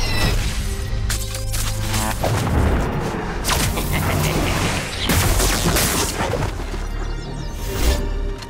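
Bomb explosions from League of Legends: Wild Rift, a dense run of loud booms, crashes and shattering bursts that keeps going for several seconds with a few sharp peaks.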